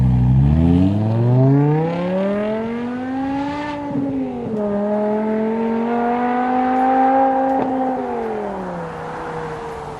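A BMW E60 M5's V10 engine revs loudly and up close, its pitch climbing over the first few seconds, then holding a high, steady howl with slight dips and rises. No one speaks.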